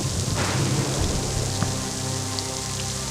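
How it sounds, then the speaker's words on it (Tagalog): Steady rain falls in a forest, a dense continuous hiss of drops on surfaces, fairly loud and close, with no voices. "Mamaya, titila din yung ulan, ha?"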